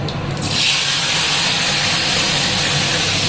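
Chopped tomatoes go into a hot pan already holding mustard seeds and sizzle at once. The frying gives a loud, steady hissing crackle that carries on unbroken, with no talk.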